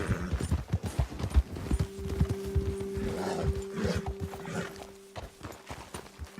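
Steady clip-clop of horse hooves walking on hard ground in Red Dead Redemption 2, close by, with a short whinny partway through and a faint low hum underneath.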